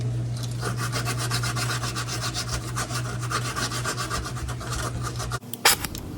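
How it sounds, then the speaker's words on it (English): Sandpaper is rubbed over steel-to-copper refrigerant pipe joints on a Frigidaire upright freezer in fast, steady back-and-forth strokes close up. The strokes stop abruptly near the end, followed by a brief sharp clatter. "Ritualistic sanding."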